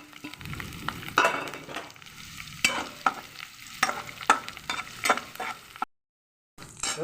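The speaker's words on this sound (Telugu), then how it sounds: "ఒక ఉల్లిపాయ మూడు పచ్చిమిరకాయలు పోసా" Sliced onion and green chilies sizzle in a pan while a spoon stirs them, sharp scraping strokes over a soft frying hiss, quiet, with a brief silent gap near the end.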